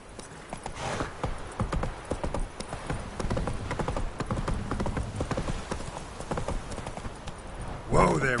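A horse gallops in The Witcher 3 video game, hooves clip-clopping in a quick steady rhythm throughout, with a brief whinny near the end and a voice talking over it.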